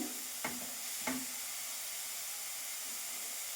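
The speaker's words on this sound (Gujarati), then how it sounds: "જો ફ્રેન્ડ્સ, આવી રીતે આપણે ગાજરને કૂક કરી લેવાના છે." Carrots cooking in a pan for carrot kheer give a steady close sizzle and hiss, with two brief stirring scrapes early on and no talk.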